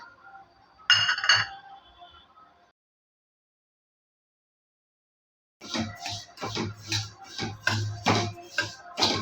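Sesame seeds being dry-roasted in a pan for til poli, with clinking metal at first, then a pause, then quick rhythmic stirring strokes scraping and tapping against the pan.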